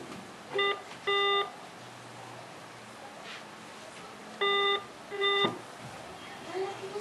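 Outgoing telephone call ringback tone from a phone call to Egypt, sounding in paired electronic beeps near the start and again around the middle, steady and fairly loud over quiet background hiss.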